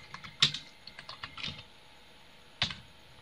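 Typing on a computer keyboard while entering a comment in Microsoft Word 2003: a handful of quiet, scattered keystrokes with short gaps between them, close by, with no talking.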